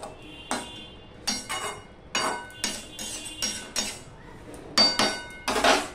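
A metal lid set onto a pot of cabbage cooking with fish head, heard as a series of sharp metallic clinks and knocks, about a dozen spaced across several seconds, close and fairly loud with no talking.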